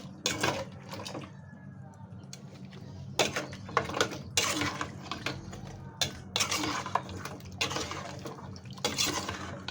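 A spoon stirs pork kaldereta in a cooking pot, giving repeated scraping and clinking strokes in uneven bursts over a steady low simmering hum, close and moderately quiet.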